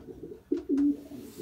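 Young racing pigeons give two short, close coos, a brief low call followed by a longer one, over quiet background noise.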